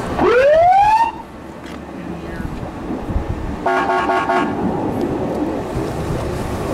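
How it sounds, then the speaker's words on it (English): A police siren winds up loudly and cuts off after about a second, followed later by a short electronic siren burst. "make sure the siren works"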